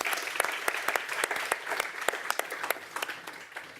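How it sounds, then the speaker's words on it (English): Audience applause at the BIOTS 2018 finalists announcement, a dense steady patter of many hands clapping close by, sustained throughout without a voice over it. "This is on camera, so you do can clap"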